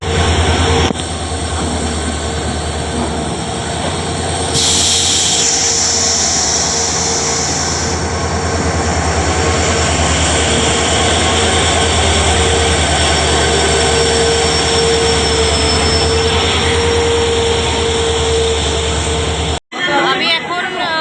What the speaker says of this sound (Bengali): আমার ট্রেন চলেই আসছে।